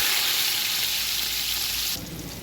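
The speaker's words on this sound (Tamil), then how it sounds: "அது கூட வெங்காயம் நல்லா வதங்கட்டும், கிண்டி விட்ருக்காங்க" Onions fry in hot oil with cinnamon and cloves for mutton pulao, giving a steady, loud, dense sizzle that holds throughout and eases slightly near the end, with no voices.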